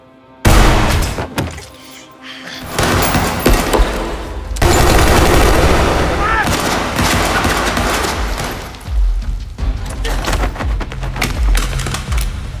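Gunfire from a long-barrelled rifle in an action film: loud bursts of rapid shots and sharp cracks, broken by a brief lull, then sustained heavy firing mixed with impacts and debris, close and dense.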